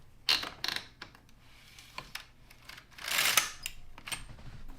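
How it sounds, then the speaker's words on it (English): LK-150 knitting machine carriage pushed across the bed knitting rows of Walmart yarn at a looser tension, quiet close mechanical clicks and ratcheting with a longer whirring scrape midway, no talking. "Let me try knitting a few more rows at a looser tension."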